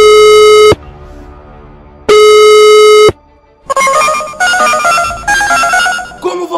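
A telephone rings out for a call with long, loud electronic tones separated by pauses, then shifts into a brighter chiming ringtone melody, close and alone with no speech.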